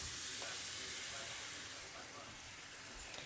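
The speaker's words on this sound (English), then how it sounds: "Now, I add some whipping cream." Whipping cream poured into a hot pan for a Tuscan cream sauce with roasted chicken, giving a steady broad sizzle and hiss that holds at an even level for a few seconds, with faint kitchen noise beneath.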